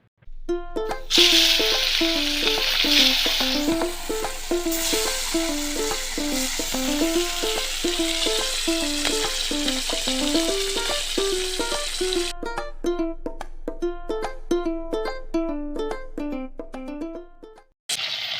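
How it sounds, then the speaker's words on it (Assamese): Pieces of bhangon fish fry in hot oil in a karahi, for a fish dish cooked with manimuni greens. A steady, loud sizzling hiss runs for about twelve seconds under prominent melodic background music, which continues alone once the sizzle drops away. "কেৰাহী গৰম হ'ল আৰু এয়া মাছখিনি ভাজোঁ আৰু তেল দিওঁ"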